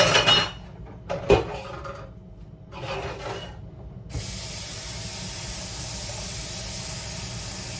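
A heavy, old orange skillet, hot from cooking boneless pork chops, is rinsed under running water. Scrubbing and clatter come first, then a loud, steady hiss of spray and steam that sets in suddenly and holds.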